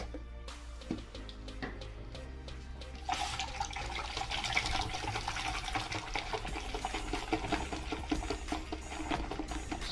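Water and shampoo churned into foam inside a mug, a continuous sloshing, swishing wash that grows louder and busier partway through, close by with no talking.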